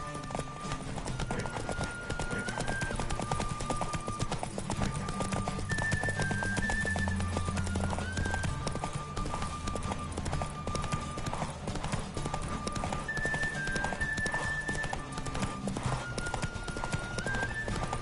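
Steady clip-clopping hooves of a horse galloping in The Witcher 3 video game, continuous and fairly loud, with music and a brief whinny mixed in.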